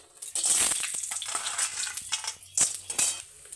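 Steady crackling sizzle of lentil dumplings frying in hot oil, with occasional scraping and clinks of a utensil against the pan, close by.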